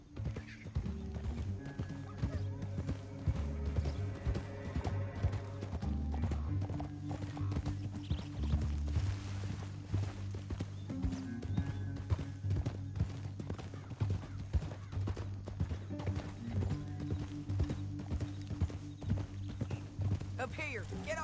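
Steady clip-clop of horse hooves in Red Dead Redemption 2 runs throughout, mixed with music and a voice speaking over it, with an occasional whinny.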